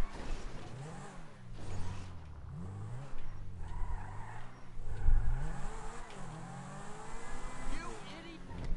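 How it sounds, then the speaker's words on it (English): A Zentorno supercar accelerates in GTA, its engine rising and falling in repeated revving sweeps with occasional tire noise, while several people talk over the game sound. "I think the Zentorno accelerates faster than the Comet"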